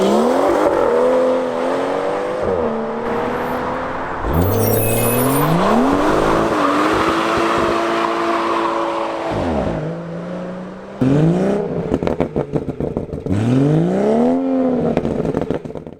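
A BMW M240i fitted with a D-Cat exhaust revving hard, loud rising and falling engine sweeps with crackles and pops between blips, close and unaccompanied.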